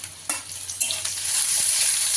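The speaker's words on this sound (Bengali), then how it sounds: "টমেটোটা একটু ভেজে নিব।" Tomatoes frying in a pan over onions in mustard oil for prawn masala, a close sizzle with scraping stir strokes at irregular intervals, building into a denser, louder hiss toward the end.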